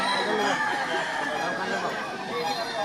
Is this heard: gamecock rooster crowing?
yes